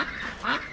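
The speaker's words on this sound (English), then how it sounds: "All sorts of ducks in them." A brief, faint quack from a duck, heard once against a soft outdoor background in Niğde, Turkey.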